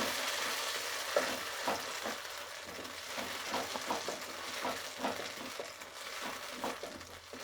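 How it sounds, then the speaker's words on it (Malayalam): Banana halwa being stirred in a frying pan over a medium flame, a steady close sizzle and frying hiss broken by repeated soft scraping strokes of the spoon, with no voices. "ഇനി നല്ലതുപോലെ ഇളക്കി കൊടുക്കുക. മീഡിയം ഫ്ലെയിമിൽ വേണം വയ്ക്കാനുള്ളത്."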